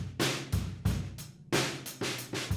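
A roomy, ambient drum kit heard through room microphones plays a steady groove, kick and snare hits ringing out with a distant, reverberant wash of cymbals.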